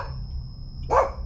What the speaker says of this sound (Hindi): कुत्तों के भौंकने की आवाजें भी